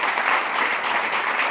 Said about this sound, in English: can I get a round of applause for our sponsors?